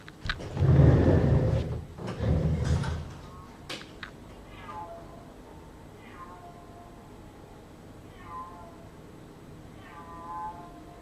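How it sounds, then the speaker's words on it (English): A cat makes a series of odd, warbling, rising-and-falling meows. They follow louder bumping and rustling at the start, then repeat at intervals in a quiet room. "cat is making space sounds."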